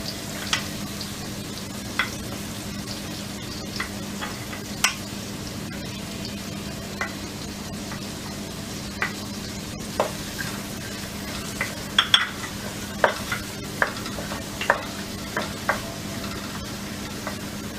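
Chopped onion sizzling in hot oil and butter (makhan) for sarson da saag, a steady close-up fry with sharp spoon-on-pan clicks and scrapes scattered throughout, louder toward the end, and no talking.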